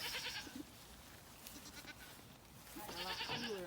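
Goats in a barn bleat in two close, clear calls, one at the start and one at the end, over a steady background hiss; no one speaks.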